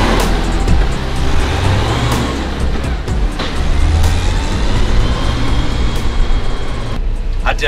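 A Unimog truck drives with a loud, steady engine rumble and road noise close by. A voice talks over it throughout.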